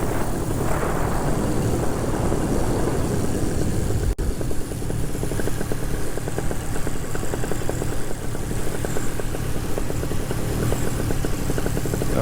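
A paramotor engine drones steadily in flight, the propeller's buzzing roar loud and close throughout, with wind rush and no speech.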